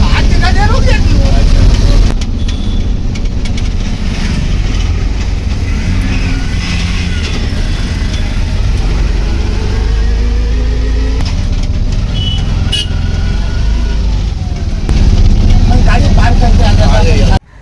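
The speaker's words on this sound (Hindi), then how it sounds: "ये जो बसें आ रही हैं ये स्टैंड की तरह है।" Buses arriving and idling near a temple parking area, a loud, steady engine rumble with occasional revving that runs throughout, while people talk nearby over the traffic.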